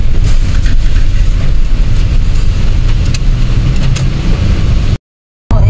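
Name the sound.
street traffic during a town fiesta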